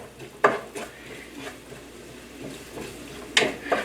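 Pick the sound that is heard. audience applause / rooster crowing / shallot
shallot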